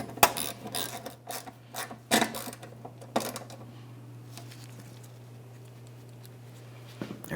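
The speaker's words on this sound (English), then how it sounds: "put in our 3 7mm headed mounting bolts," A hand ratchet tightens 7mm-headed mounting bolts under a 1998-2002 Lincoln Navigator during fuel filler neck replacement, heard as a few close clicking bursts over a steady low hum, then a long quiet stretch.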